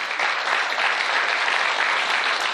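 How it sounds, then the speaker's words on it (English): Steady, loud applause from a live podcast audience for a panel, dense clapping sustained without a break. "Let's give a round of applause to the panel."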